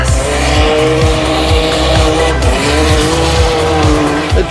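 A drifting car, loud and close, with a rasping engine bouncing off the limiter over sustained tire squeal and skidding.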